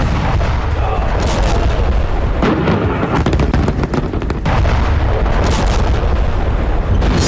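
Bombing explosions in Syria rumble and thud in heavy, continuous succession, loud and dense, with sharp cracks rising over a constant roar of blasts.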